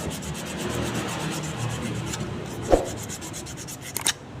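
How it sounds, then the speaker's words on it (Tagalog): A motorcycle clutch housing is lightly sanded by hand with steady, close rubbing strokes, followed by a brief knock and a couple of short scrapes near the end. "lihain nyo lang ng bagya"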